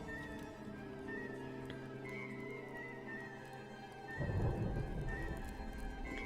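Rain and rumbling thunder in the survival video game Smalland, a steady wash of rainfall over a low sustained rumble with a tonal game music bed, swelling into a louder, noisier burst near the end.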